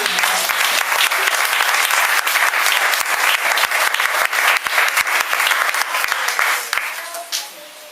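A church congregation breaks into sustained, dense applause with scattered cries, loud and steady throughout before fading near the end.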